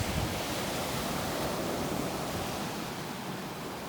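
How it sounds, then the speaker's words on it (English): Steady rushing surf from ocean waves breaking on a foggy beach, a continuous broad wash of noise with wind on the microphone. "There's a shell line where the waves are breaking"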